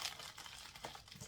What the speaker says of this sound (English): let me get it cut open here.